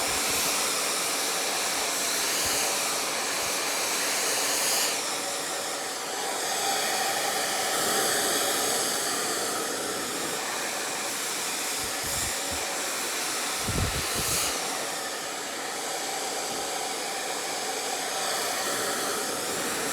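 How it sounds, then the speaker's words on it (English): A hair dryer blows steadily and loudly for the whole stretch while bangs are blow-dried forward, its airflow whooshing with slight shifts as it moves, with a few brief low bumps of handling and no talk. "blow drying everything forward"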